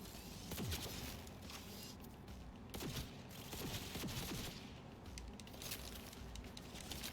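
Faint precision rifle shots in the video game Cyberpunk 2077 crack out in scattered bursts over a dense, noisy game background, distant and low in level.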